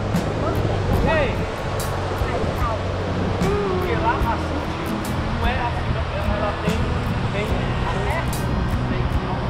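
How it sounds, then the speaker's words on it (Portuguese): Sea waves wash onto the beach at Guarapari, a steady broad roar of surf with people talking over it throughout. "Pois é, tia Maria, aqui é o mar."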